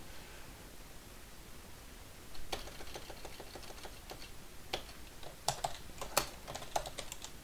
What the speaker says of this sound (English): and then I would type in